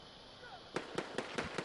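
Five sharp bursts from an incendiary grenade in the Battlefield shooter, popping in a steady rhythm about every fifth of a second, loud and close after a quieter stretch of game ambience.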